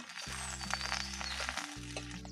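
Fresh curry leaves sizzle and crackle in hot oil with onions in a pan for fish curry, a close, steady frying hiss with small pops and no talking.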